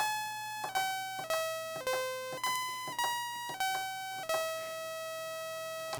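A modular synth envelope retriggers bright electronic tones in a stepped sequence, each note sharply attacked and then decaying, changing pitch from step to step, with no voices.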